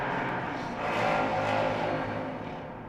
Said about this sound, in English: These fucking people in their cars outside.